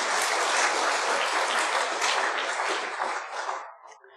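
A church congregation claps together in a dense, steady burst of applause that holds for a few seconds, then quickly tapers off into a last few scattered claps.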